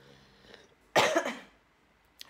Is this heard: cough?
yes